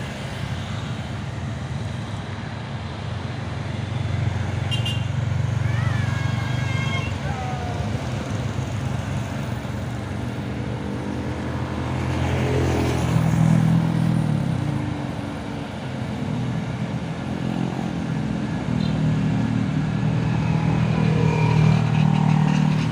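A Hino Euro 4 truck passes along a road amid other traffic, its rumbling engine noise swelling and fading in long waves over a continuous roadway hiss.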